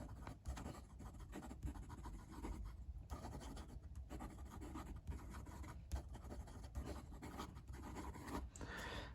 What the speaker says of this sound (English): I can write with it, you know, very easily write with it unposted.